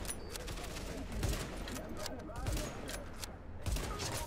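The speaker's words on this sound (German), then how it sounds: "Wir können auf 3 auf seinen Tank schießen, ne?" Gunfire aimed at a tank in the video game The Division comes as several short, fairly faint bursts spaced about a second apart over a continuous game background.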